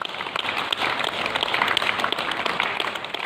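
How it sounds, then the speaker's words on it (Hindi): A group claps continuously at a hospital in Jamuhar, Rohtas, celebrating patients recovered from COVID; a sustained, even wash of many hands, near and moderately loud, without talking. "ये ताली कोरोना के साथ जंग में जीत की है।"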